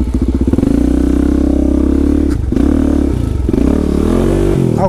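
A Suzuki DR-Z400 SM supermoto revs hard off-road at dusk while its rear tire spins, a loud, steady engine drone rising and falling close by, with brief dips where the throttle eases.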